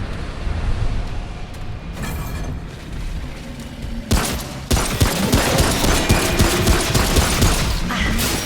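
Pistol fire in Remnant: From the Ashes, heard as a rapid run of loud booming shots that intensifies and continues densely over a rumbling, noisy battle background, with no talk.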